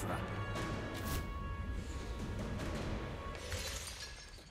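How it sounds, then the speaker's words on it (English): A moonstone shattering in the video game Dark Parables, a bright crash over a dense, sustained game soundscape that fades slightly toward the end. "he just shatters the moonstone and he doesn't hit her"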